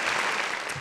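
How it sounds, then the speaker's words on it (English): A canned applause track played during an online tech meetup, a short burst of dense, bright clapping heard alone. "I'm going to queue up the applause track for everyone."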